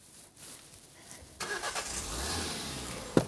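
A car engine cranks and catches after a quiet stretch, then settles into a rising mid-pitched run with some revving, heard fairly close and without speech.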